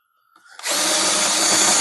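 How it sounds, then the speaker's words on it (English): A power drill spins up after a brief pause and whines loudly and steadily while drilling out old rivets on a truck, close and alone. "I drill out the old rivets."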